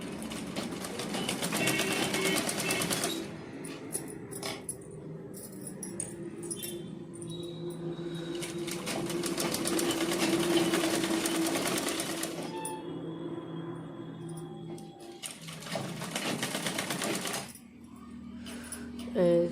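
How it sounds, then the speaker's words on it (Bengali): Sewing machine stitching through folded fabric while attaching lining, running in long continuous bursts with short pauses between them, under a voice talking. "এইভাবে আমি সেলাইটা দিতে থাকবো।"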